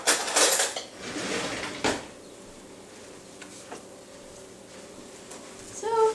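Metal cookie tray being pulled from an oven for vegan kitchen-sink cookies, a sharp clatter of the pan and rack at the start, another knock, then a quieter clink at the end.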